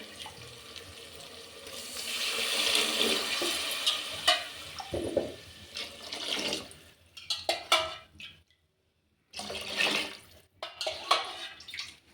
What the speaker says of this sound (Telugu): ఇప్పుడు దీంతో ఆరు గ్లాసులు నీళ్ళు వేస్తున్నాను